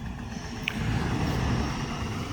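A steady low engine rumble from a 2004 Jeep Liberty Renegade with a dropped rocker arm from a collapsed lifter runs throughout, with a brief higher-pitched click near the start, continuous and fairly close.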